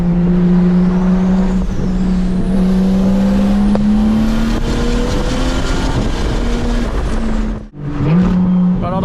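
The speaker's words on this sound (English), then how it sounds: "335 single turbo, big turbo by the way" Big single-turbo 335 car engine at a Monterey car week show, a loud, steady droning note that rises slowly in pitch, then cuts out briefly before resuming, heard up close.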